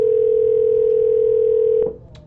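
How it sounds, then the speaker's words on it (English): A telephone line tone sounds during a live call, one long, steady, loud tone that holds for nearly two seconds and then stops, followed by faint background noise. "A phone ringing live."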